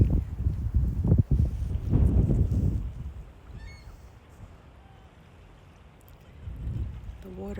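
Wind gusts over calm, rippling water, rumbling hard into the microphone before easing to a softer hiss, then swelling again, with a few faint bird calls far off.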